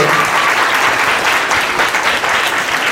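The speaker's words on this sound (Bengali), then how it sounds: "ওর জন্য একটা জোরে তালি বিভাগ করে।" Audience at a scholarship day event in the Sundarbans applauding loudly, dense sustained clapping from a crowd throughout.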